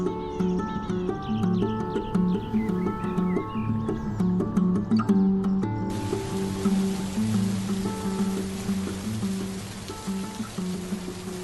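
Ownerless wild horses that roam free year-round in the Kızılırmak Delta near Bafra, Samsun, can be heard with hoof sounds and calls among tonal sounds, joined midway by a steady hiss of rain.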